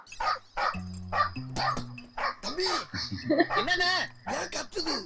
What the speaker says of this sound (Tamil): இது மார்கழி மாசம் நைட்ல நாய் குலைச்சதுன்னா கண்ட ரீசன்காக இருக்கும்